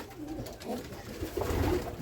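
Village pigeons give steady low cooing, a continuous run of throaty calls that swells louder toward the end, near and unaccompanied by speech.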